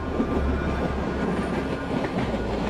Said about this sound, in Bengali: শেষ বনগা লোকাল।